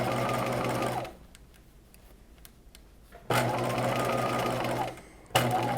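A sewing machine runs in two close, steady bursts of stitching on a slip garment. A quiet pause with faint handling clicks separates the bursts, and a third burst starts at the end.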